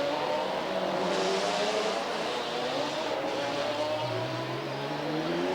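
A 1997 FIA GT race car thrashed around the Helsinki street circuit, its engine roaring loud and steady with rising and falling revs as it is driven hard, alone without talk.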